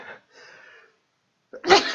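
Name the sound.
sneeze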